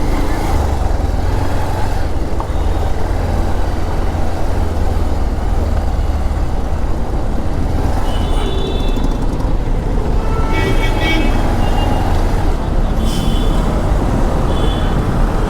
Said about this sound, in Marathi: बेकार ट्रॅफिक जाम आहे.